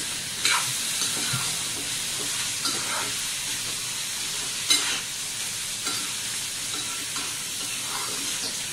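Tondli (ivy gourd) stir-frying in a pan makes a continuous close sizzle, broken by repeated scrapes and clacks of the spatula against the pan.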